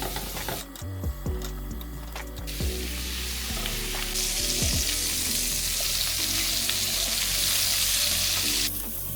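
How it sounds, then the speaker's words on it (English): Chicken thighs laid skin side down in a hot pan, a loud continuous sizzle close by, with a few clunks and scrapes as pieces go in, then the frying swells brighter and steadier. "In a hot pan, lay your thighs skin side down and fry them for about 2 to 3 minutes on each side"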